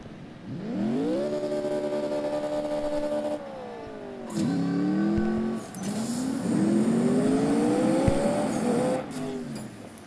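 Car engine racing in CSR2, a Ford versus Chevy duality cup sprint, revving loud and close with rising pitch through several gear shifts, brief drops between changes, and a steady high-speed drone at the end.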